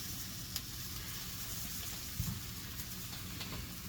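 Scrambled eggs sizzling steadily in a hot pan, a dense close crackle with occasional spatula scrapes and taps, no voices.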